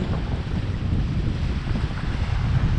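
Sea waves and wind at Dhanushkodi beach near Rameswaram, a loud continuous roar of surf with gusting wind buffeting the microphone throughout.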